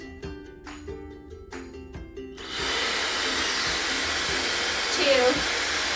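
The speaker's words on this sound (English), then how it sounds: "I've got my hair dryer. It has the attachment on it that focuses the air. And I'm going to turn it on to medium heat." After some clinking and knocking, a hair dryer fitted with an air-concentrating nozzle switches on at medium heat and runs as a loud, steady whooshing roar up close until the end.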